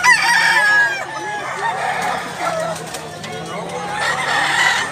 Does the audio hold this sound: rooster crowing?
yes